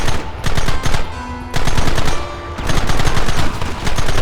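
Gunfire in the video game Red Dead Redemption: dense, loud machine-gun-like bursts of rapid shots, nearly continuous with brief gaps between volleys.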